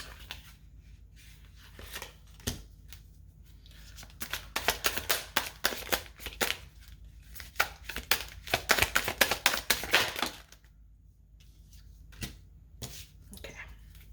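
Tarot cards being shuffled by hand, crisp riffling bursts in clustered rhythmic runs separated by quiet pauses, close and fairly soft.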